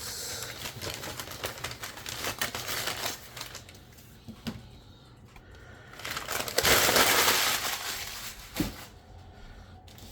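A small parcel being unwrapped by hand: crinkling, crushing plastic and paper packaging in uneven handfuls, close and moderately loud, with a louder rustling burst toward the end.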